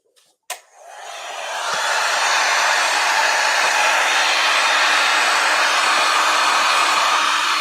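A heat gun is aimed at an acrylic painting. A sharp click sounds first, then the blower spins up over about a second into a loud, steady, close rush of air that continues unbroken to the end.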